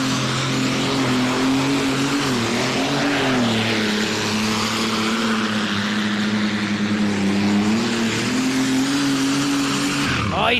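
A limited Superstock pulling tractor roars at full load during a tractor pull, its engine holding a loud sustained drone with a rising and dipping pitch throughout, then cutting off abruptly near the end.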